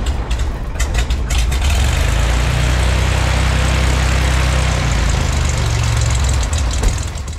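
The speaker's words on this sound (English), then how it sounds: "Let's go start up the airplane and get going." A small training airplane's propeller engine cranks and catches, then settles into a loud, steady, throbbing idle close by.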